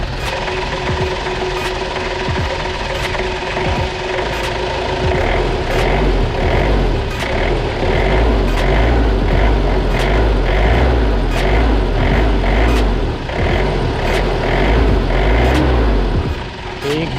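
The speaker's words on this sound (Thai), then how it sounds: "เดี๋ยวผมลองเบิ้ลดูนะครับ" Old diesel engine of a Nissan Big M pickup truck revving, a loud steady mechanical clatter with repeated sharp bursts as the throttle is blipped, close by, with someone talking briefly over it.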